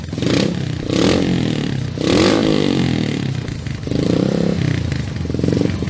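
A custom Yamaha Byson motorcycle modified in BMW R nineT style revs hard up close, four loud throttle bursts with a throaty rasp, each falling back to a rough idle between.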